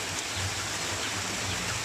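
Steady rain falls on a rainy afternoon at a chicken farm, a continuous soft hiss of drops on surfaces with a low rumble underneath, no voices.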